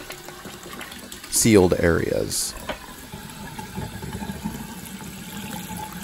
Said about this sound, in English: after about 10 minutes of continuous water running here, we're going to go ahead and shut the water off